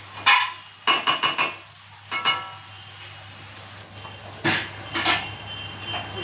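Metal clinks and clatters at a kitchen stove as a lid goes onto a pot of chicken curry, with several sharp knocks in quick bursts and then a couple of later taps, close and without talk.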